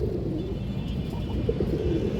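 Pigeons coo softly nearby in low, murmuring repeated calls over a faint background rumble, with no talking.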